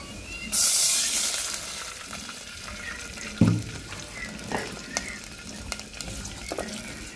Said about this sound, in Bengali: পেঁয়াজটা ভাজা হয়ে গেলে অল্প পরিমাণ পানি দিব।